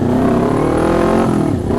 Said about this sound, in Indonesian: suara admin kayaknya kalah sama nih knalpot.